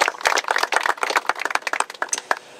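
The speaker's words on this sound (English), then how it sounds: "Maybe we could give all of them a round of applause" Crowd applause for a group of young boys and girls at an outdoor classroom event in Kirk Park, a dense burst of overlapping hand claps lasting a few seconds, fairly close and steady throughout.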